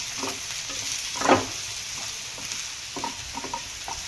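Onions, garlic and chillies frying in a pan for an eggplant dish, a soft steady sizzle with occasional stirring scrapes and one louder clatter, no voices.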